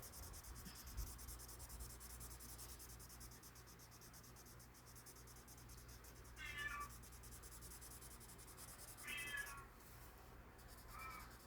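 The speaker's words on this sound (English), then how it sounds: "Oh, my kitty cat's talking." Pet cat Pixie gives two or three short meows a few seconds apart, faint against a steady low background hiss, with no talking.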